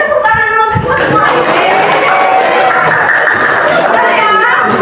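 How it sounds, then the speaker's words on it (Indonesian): High school classroom students clapping together amid lively chatter and voices, a brief burst of hand claps blended into the crowd noise of the room. "itu tepuk tangan dulu untuk kita semua"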